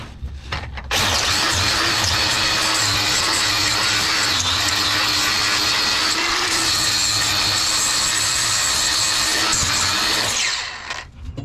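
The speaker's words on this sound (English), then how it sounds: "let me get the grinder" An angle grinder runs loud and continuous on a tar holding tank being modified, a sustained high whine that starts abruptly after a brief pause and winds down at the end.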